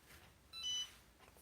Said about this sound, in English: my little iron here is beeping at me because it's been sitting too long